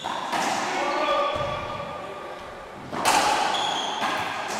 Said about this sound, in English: Good shot from Cottrell on the left side